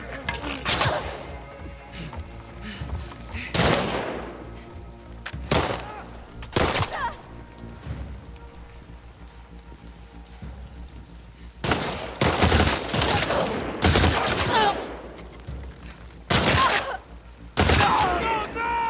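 Gunfire in The Last of Us Part II cracks out in loud, sharp bursts scattered across the scene, some in quick clusters with gaps between, alongside impacts and a voice speaking.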